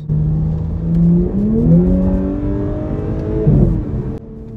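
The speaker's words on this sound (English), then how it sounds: "Little pops in the exhaust there." A 2018 Audi S5 Sportback revving hard on a slick road, its engine note climbing steadily through a gear with aggressive automatic shifts, ending in a crackle of exhaust pops before dropping away, loud and close.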